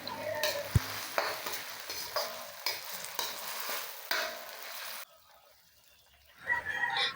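Onion and garlic frying in oil in a pan for homemade chili oil, a steady sizzle with scraping stirring strokes, then a brief quiet spell before the sizzle swells again, close up and alone.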